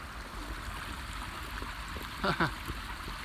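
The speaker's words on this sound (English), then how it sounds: "sometimes streams are a little more interesting when they're flowing high" A rain-swollen stream in Rock Creek Park runs high on a wet day, a steady low rush of flowing water heard fairly faintly, with a short burst of voice near the end.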